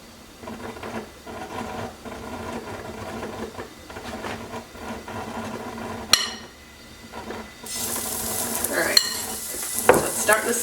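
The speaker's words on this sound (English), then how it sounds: "Starting to sizzle when I put the meat in" Quiet clattering and stirring give way to a loud hiss as steak bites hit a hot pan and sizzle steadily, with a few utensil knocks.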